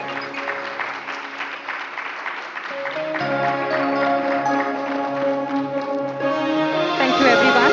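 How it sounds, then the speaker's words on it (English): A conference audience applauds at the close of a session, steady clapping that grows fuller and louder over several seconds, with music or tones sounding beneath and no speech over it. "A loud round of applause for the wonderful session that we all witnessed a while ago."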